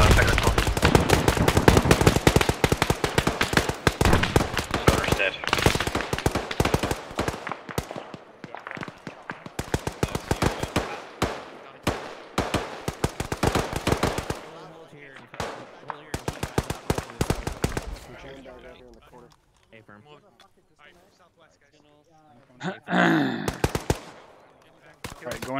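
Rapid, sustained automatic gunfire from a tracked armored vehicle in ArmA 3 combat, loud dense bursts for about fifteen seconds, then scattered shots with quieter gaps and a final burst, with voices talking over it.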